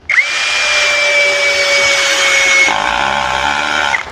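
A cordless impact drill whines at high speed for a few seconds, then its tone drops and strains with a rattling, grinding sound as it drives a 2-inch screw into material.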